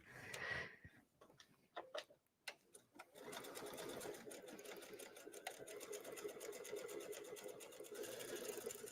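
A sewing machine topstitches jeans. A few separate clicks and short bursts come first, then a steady rapid stitching rattle runs continuously for several seconds at close range.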